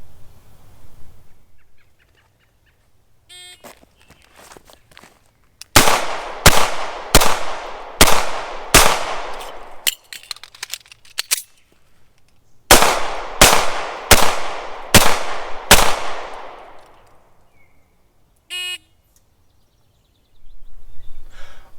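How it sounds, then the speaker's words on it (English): An S&W Model 39 pistol fires rounds into a target during a law-enforcement qualification course: two loud, sharp strings of five evenly spaced shots, separated by quieter handling clicks and metallic reload noises. "then I fire 5 rounds strong hand only into the target, perform a mandatory reload"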